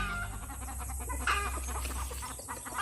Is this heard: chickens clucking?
yes